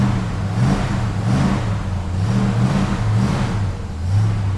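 Engine of a 1979 Cobra car revving after a dead-cold start, with repeated rising and falling throttle blips over a steady rumble, close and fairly loud.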